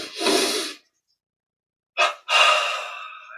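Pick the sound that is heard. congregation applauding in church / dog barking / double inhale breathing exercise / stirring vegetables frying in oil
double inhale breathing exercise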